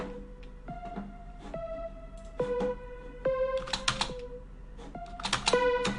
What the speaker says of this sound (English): just a saw, you know, with a lot of overdrive, which sounds like this.